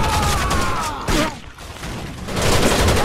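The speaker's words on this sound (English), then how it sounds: "Suppressing fire, you motherfuckers!" Suppressing gunfire in the video game Rainbow Six Vegas 2: a dense, loud burst of rapid automatic shots that briefly drops off and then resumes, with sustained crackling at the end.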